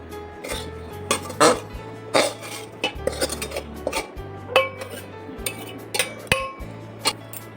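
Raisins and khoa are stirred into cooled semolina in a metal pot for gujiya filling, with repeated close clinks and scrapes of a spoon against the pot in an irregular rhythm.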